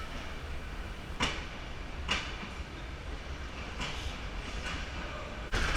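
Train pulling out of a station on the Yangon to Bagan line in Myanmar: a steady low rumble of the moving railcars with periodic sharp metallic clanks and squeals from couplings and wheels, fairly close, no talk.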